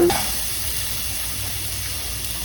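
Garlic and onion frying in a pan ahead of the tomato sauce for home canning, giving a steady, even hiss that stays level throughout with no voices over it.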